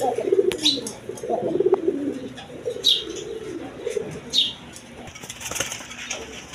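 Rasgolla color pigeons, a pair, cooing softly nearby with occasional wing flaps and chirps over a low background hum.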